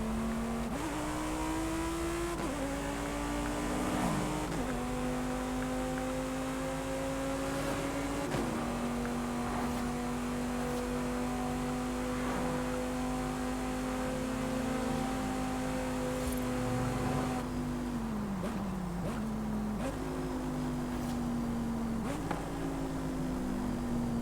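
A tuned Lamborghini sports car engine revs hard and climbs through repeated rising pulls, each falling briefly at a gear change before climbing again, loud and close throughout with a constant road roar underneath.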